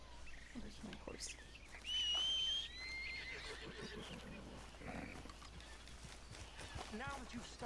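A horse whinnies sharply in the video game Red Dead Redemption 2, a bright rising neigh cutting above ambient noise and background voices.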